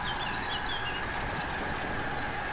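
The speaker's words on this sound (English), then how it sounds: "I hear birds." Birds chirp and tweet in thin, high calls that drift in and out over a steady, hissing outdoor ambience, fairly faint and somewhat distant.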